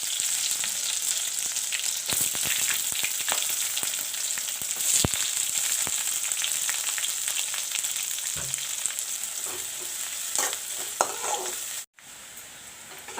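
Onions fry in a pan with green cardamom, cloves and cinnamon for ghugni, giving a steady close sizzle and crackle throughout, with occasional stirring scrapes and a brief dropout near the end.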